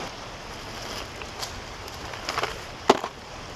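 Water splashes inside a dirty creek tunnel pipe where carp gather, a small splash then a sharper louder one near the end, heard over a faint windy background with no talking.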